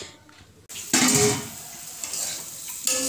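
Radish fries in a pan while being stirred: a close, hissing sizzle flares loudly after a brief quiet start, then keeps crackling under scraping spatula strokes.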